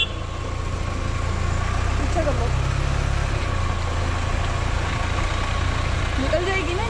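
A Mahindra Thar on a narrow, landslide-damaged hill road to Munsiyari gives off a steady, low engine drone throughout, with people talking over it.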